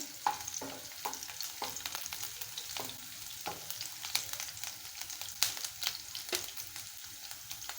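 Green chillies frying in a pan, a soft continuous sizzle with occasional light stirring clicks, fairly quiet and without voices.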